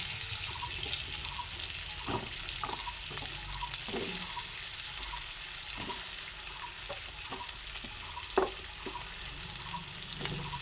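Potatoes frying in a pan with a steady hissing sizzle and scattered scrapes of stirring, close and moderately loud, with faint music beneath.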